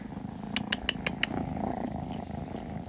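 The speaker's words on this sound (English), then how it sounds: "Good purrs." Black cats purring softly in a quiet indoor setting, a low steady rumble with a few brief clicks and chirps near the start, faint and close.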